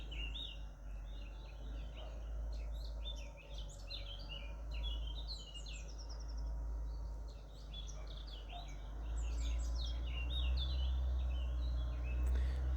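Birdsong from several birds chirping and trilling steadily throughout, mid-distance, over a low rumble of background noise, with no talking.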